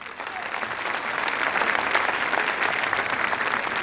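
Applause from a concert audience at a 2002 father-and-son show at Rumeli Hisarı: a dense, steady wash of many hands clapping that swells slightly and holds, loud and close, with a voice faintly under it.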